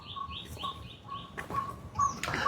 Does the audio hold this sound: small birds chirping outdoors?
yes